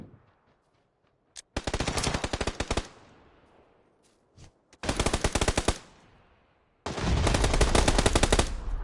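Automatic gunfire from two players in PUBG on PS4: three long, loud bursts of rapid rifle shots, the first opening with a single shot and the last two nearly back to back, with a couple of faint isolated shots in the gaps.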